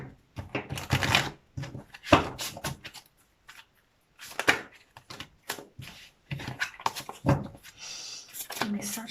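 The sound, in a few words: shuffling and drawing an Archangel Michael oracle card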